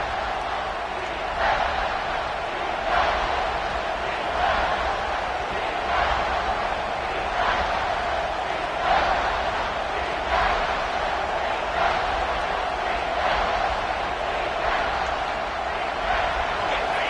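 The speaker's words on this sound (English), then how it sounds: "This crowd knows they have to bring it in big moments" A large home stadium crowd at a football game keeps up a sustained roar, with rhythmic swells recurring every second or so, while a commentator talks over it.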